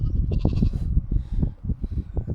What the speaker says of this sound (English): Good view of the sheep from here.